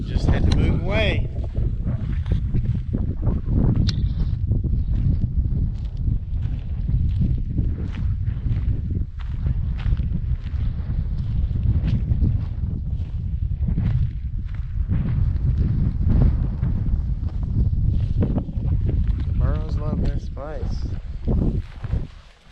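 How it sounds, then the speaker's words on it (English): Steady wind buffets the microphone in the Delamar ghost town, a constant close, low roaring rumble that runs the whole way through, with voices faintly at times. "Probably get out of the wind some."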